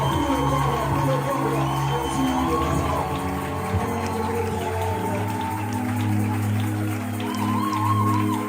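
A worship congregation cheers and shouts in acclamation, a sustained crowd roar mixed with scattered clapping and whoops, carried over ongoing music.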